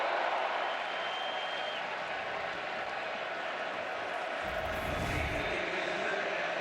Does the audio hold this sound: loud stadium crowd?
yes